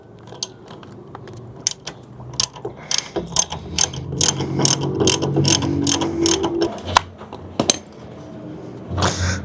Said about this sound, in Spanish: Vamos a aflojar con nuestro dado 10.